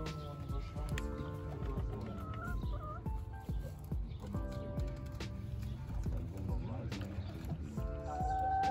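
New chickens clucking outdoors around sunset, their short calls scattered through a busy, continuous background with other noises and talk mixed in.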